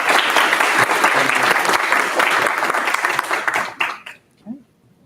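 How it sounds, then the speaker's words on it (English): Hearty applause from a symposium audience for intern speakers, dense clapping for about four seconds that then thins into a few scattered claps and dies away. "Round of applause for our speakers."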